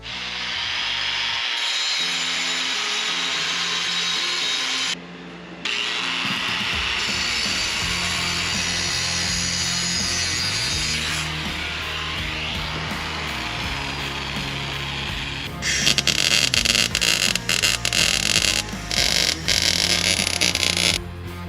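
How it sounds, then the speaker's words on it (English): Welding tacks on a custom exhaust for a 2003 BMW 540i, a steady close crackling hiss that runs continuously, with a brief cut-out and a harsher, louder buzzing stretch near the end. "Now that is a tack weld."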